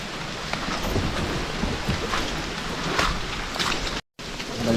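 Rain falls steadily during an overnight boat trip in Dilasag, a dense continuous hiss with scattered patters and wind, loud and close, briefly cut out near the end.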